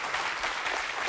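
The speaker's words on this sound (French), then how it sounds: "On les applaudit très fort." Studio audience on a French television talk show applauding, a short burst of dense, bright clapping heard alone at moderate volume.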